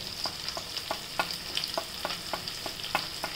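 Asafoetida and turmeric sauté in oil for a fenugreek-seed dal: a low sizzle under regular spatula scrapes that land roughly every half second, close and without speech.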